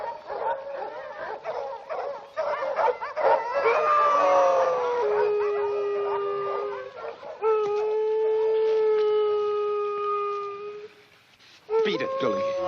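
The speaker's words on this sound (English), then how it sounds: "Don't know what's bellyaching those dogs." Several dogs howl and bark loudly at night, drawn-out wavering howls rising over yips and short barks, with a pause before a final burst of barking.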